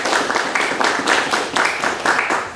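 Audience applause at an academic ecotoxicology lecture greeting the speaker, a dense, steady wash of many hands clapping throughout, fairly loud and without talk.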